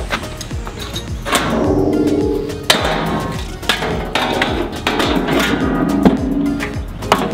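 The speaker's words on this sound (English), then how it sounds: "Drop our mower back there." An Exmark Metro walk-behind mower is dropped back down after a deck belt replacement, landing with a few sharp metallic thuds and clanks amid a steady, loud background rumble.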